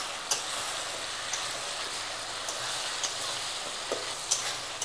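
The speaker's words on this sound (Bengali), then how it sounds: "মশলা ভাজা হয়ে গেছে" Spices sizzle and fry in a pan of oil for a village-style shaur and prawn curry, a soft continuous crackle with faint ticks and stirring clicks, close and fairly quiet, no voices.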